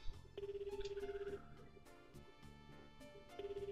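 A phone call placed in the video game Kita e. White Illumination: a steady electronic ringback tone pulses near and clear in two bursts, with soft game music underneath.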